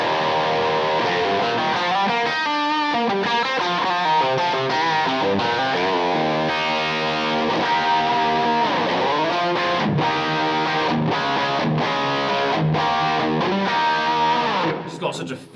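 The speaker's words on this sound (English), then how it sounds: "You'll hear just on basic chords how thick this SG sounds" Thick, distorted chords on a Gibson baritone SG electric guitar strum in a steady rhythm, heavy and loud, played alone with no talking.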